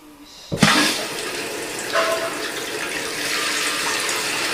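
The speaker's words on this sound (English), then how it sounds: "So I'm going to turn the water on." Water rushes steadily into an American Standard toilet tank after the supply is turned on, starting with a sudden gush and then settling into a continuous hiss and trickle of filling water close by.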